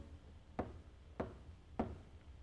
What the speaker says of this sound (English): He knocks, pauses, then knocks again.